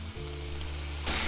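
Potatoes fry in a pan with green chilies and coriander, a soft steady sizzle that suddenly brightens into a louder hiss toward the end.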